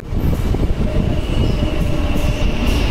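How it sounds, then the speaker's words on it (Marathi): Loud, steady rumble of a moving Mumbai local train carriage from inside, heading to Jogeshwari, with rattling wheels on rails and a faint high whine throughout. "ट्रेन आपण पकडली आहे"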